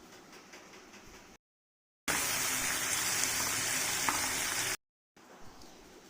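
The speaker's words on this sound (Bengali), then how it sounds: "সর্ষের তেলটি গরম হয়ে গেলে, ভালো করে গরম হয়ে গেলে আমি তাতে চিংড়ি মাছটা আগে ভেজে নেব।" Prawns sizzle and spit loudly in hot mustard oil in a pan, a dense, steady frying hiss lasting a few seconds between brief silent gaps.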